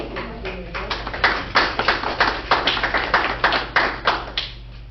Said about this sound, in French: on pourrait les applaudir aussi